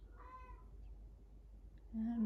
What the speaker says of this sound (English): And my cat is singing for us.